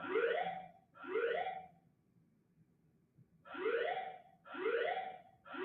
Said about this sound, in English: How long is this fire alarm, yo?